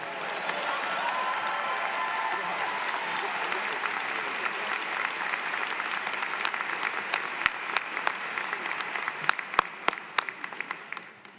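Audience applause at an online undergraduate business and STEM graduation ceremony, a dense and sustained clapping from a large crowd that holds steady and then thins out into scattered individual claps near the end.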